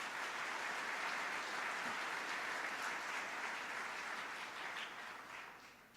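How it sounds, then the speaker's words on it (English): Audience at a city mayor's State of the City speech applauding the state legislators, a broad, sustained wash of clapping from a large room that holds steady and then tapers off toward the end. "Let's give them all a round of applause."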